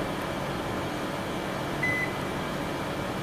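A built-in microwave oven, model BOC 606, gives one short, thin beep from its start button, heard alone over a steady background hum.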